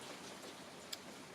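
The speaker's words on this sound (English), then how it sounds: "I don't even know if you guys can hear me over that rain." Steady, soft hiss of heavy rain falling outside, heard from indoors at low level, with one brief faint tick partway through and no voices.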